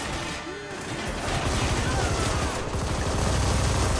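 Rapid, continuous bursts of automatic gunfire in the video game Army of Two, loud and dense, building in intensity over a noisy background.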